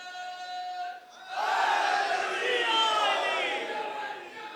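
A crowd at an Eid Milad-un-Nabi gathering shouts a religious slogan back in unison, a loud swell of many voices rising after a single leader's call.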